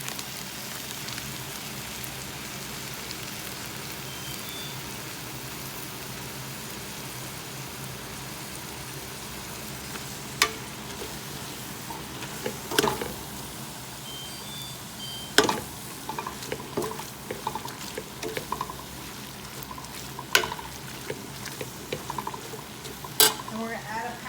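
Crawfish, a pound of them, stirred into a bubbling seafood chowder pot, with a steady simmering sizzle and scattered scraping spoon knocks growing more frequent in the second half.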